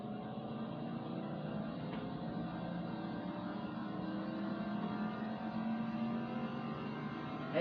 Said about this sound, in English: And now let's go take it to the dyno.